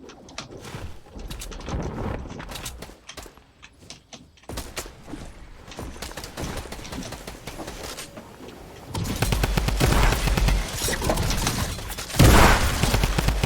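Rapid bursts of Fortnite submachine gun fire and other game gunshots, crackling and dense, growing louder and more intense toward the end with mechanical clatter mixed in.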